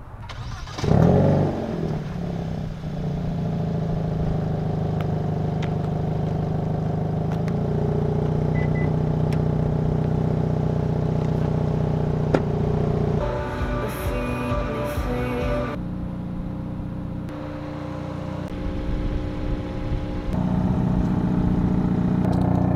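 A 2022 Hyundai Elantra N sits in steady engine noise that stays loud and continuous throughout, with a sharp start-up burst near the beginning and shifting tones midway, as if the car idles and revs.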